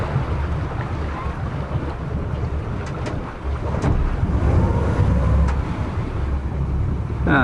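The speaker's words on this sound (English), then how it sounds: "putting my port engine in reverse, pushing with my starboard engine" A twin-engine boat idles and rumbles low as it manoeuvres into a slip, with steady wind buffeting the microphone and a swell of engine noise midway.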